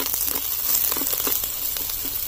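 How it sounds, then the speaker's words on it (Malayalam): Chopped green chillies fry in a pan with a brief, close, crackling sizzle and scattered pops, steady and without voices. "നമുക്ക് പച്ചമുളക് അരിഞ്ഞ് വെച്ചേക്കണത് ഇട്ട് കൊടുക്കാം. ഞങ്ങൾക്കൊന്ന് ചെറുതായിട്ടൊന്ന് വഴറ്റാം."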